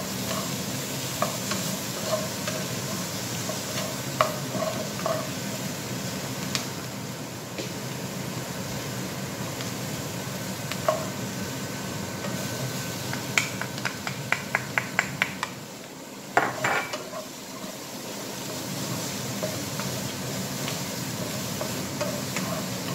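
Onion and garlic sizzling steadily in a hot pan, a continuous close hiss broken by a quick run of utensil taps and stirring scrapes partway through, with no talking.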